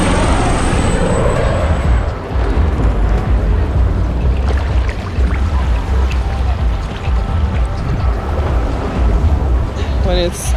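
Sea waves wash steadily along the coast of Malta in November while a helicopter flies overhead, forming a continuous loud rushing roar with a faint high tone at the start and brief chirps near the end.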